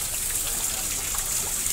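Water trickling and splashing steadily at a garden in Macao, a continuous bright gushing hiss close by, with no voices.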